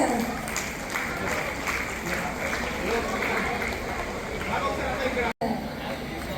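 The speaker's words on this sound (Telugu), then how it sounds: "అందరూ కూడా ఒకసారి గట్టిగా చప్పట్లు కొట్టాలి" Audience at a BSK Jewellers Women's Day celebration clapping steadily as a lucky-draw winner is called to the stage, a dense, continuous wash of applause mixed with crowd chatter, broken by a brief dropout near the end.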